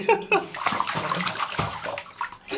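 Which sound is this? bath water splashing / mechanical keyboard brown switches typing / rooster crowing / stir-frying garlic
bath water splashing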